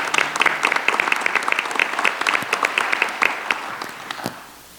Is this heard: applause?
yes